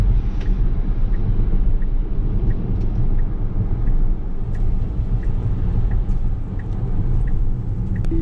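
Inside a Tesla Model S electric car driving at speed on a snowy road, a steady low rumble of road and tire noise fills the cabin, with no one talking.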